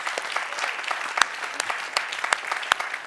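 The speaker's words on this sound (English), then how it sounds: "One more round of applause." A short round of audience applause for a student, steady clapping with several sharp, close individual claps standing out from the crowd.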